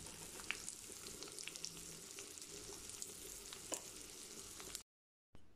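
Dry red chillies, coriander seeds, fenugreek and mustard seeds fry in a pan, giving a soft, steady sizzle with faint crackles and pops before an abrupt brief silence near the end.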